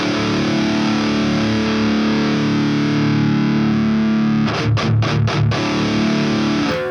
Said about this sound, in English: this is the dark, sort of more modern version of the Grind Stein.